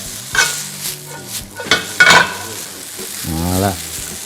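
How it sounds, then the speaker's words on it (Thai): Black noodles tossed with chili and oil in a wok, loud scraping stir strokes and bursts of sizzle, with a spatula clanging against the metal and a short rattling scrape near the end. "ผัดให้พริกกับน้ำมัน แล้วก็เส้นเข้ารวมกันนะครับ"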